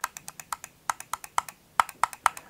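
A quick series of small, crisp plastic clicks close up from the left button of a Logitech MX Anywhere 3 mouse, about a dozen in a couple of seconds, unevenly spaced.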